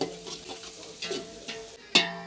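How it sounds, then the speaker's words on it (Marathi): Onion is fried and stirred in oil over a chulha, a moderate sizzle with periodic scraping stirs and a sharp clack near the end. "आपण आता कांदा टाकूया त्यात आपण आता हलवूया जरा थोडा भाजून देऊ"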